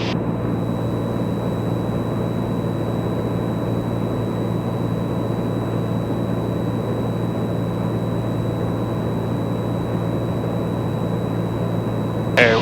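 A Piper Comanche 250 light aircraft engine drones steadily in flight after a throttle increase, a dense, constant loud roar with a high whine on top, heard from inside the cabin without speech.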